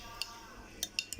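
A spoon stirring curd into a dish, a few light metallic clinks against the bowl spaced over a quiet background.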